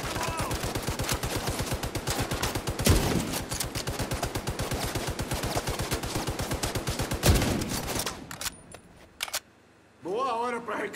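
Video game gunfire: sustained rapid automatic fire at close range with two heavier blasts mixed in. The shooting stops abruptly, and a few scattered sounds and a brief voice-like sound follow.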